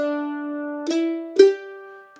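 A mandolin plays the opening phrase of a bluegrass tune: a held note, then two more plucked notes that ring out clearly and alone.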